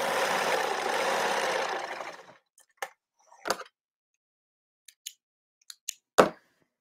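A sewing machine runs steadily for about two seconds while finishing an armhole on lace-upcycled clothing, then stops, followed by a handful of sharp, isolated clicks and taps in near silence.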